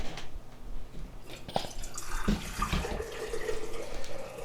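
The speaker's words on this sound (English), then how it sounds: "So once the beets are processed, we're going to empty the juice out of here." Beet juice is poured from a canning pot into a jar in a home kitchen, a soft, uneven trickle and splash of liquid with a few clinks, quiet and close.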